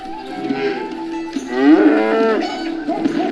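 Cows moo in the video game Stronghold, with a couple of long, drawn-out lowing calls rising and falling over quiet in-game ambience.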